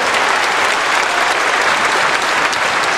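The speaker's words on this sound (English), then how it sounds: "Give yourself a wonderful round of applause." Dense, sustained applause from an audience at a formal ceremony honouring dignitaries, loud and steady for the full stretch with no break and no voices above it.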